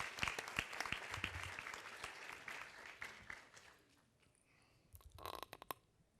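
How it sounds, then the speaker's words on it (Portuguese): Applause from a conference audience at the Brazil Conference at Harvard and MIT, dense clapping that fades over several seconds, then a brief renewed burst near the end. "Por favor, salva de palmas."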